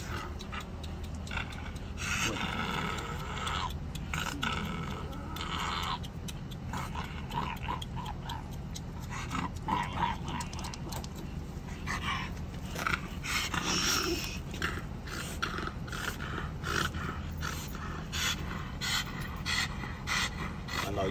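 Bully breed dogs pant and snort close by, irregular breathy huffs and snuffles running continuously over a rough, noisy background.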